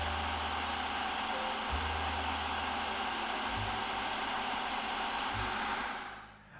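A blender whirs steadily while blending a vegan chocolate avocado cake filling, the motor droning loudly and evenly before winding down at the end.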